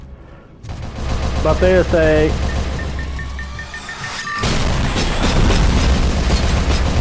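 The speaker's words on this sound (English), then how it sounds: "Shit, that's a rocket." Rocket blast in the RoboCop: Rogue City shooter game, a loud broadband explosion that hits mid-clip and leaves a sustained roar amid gunfire, with someone talking over the first half.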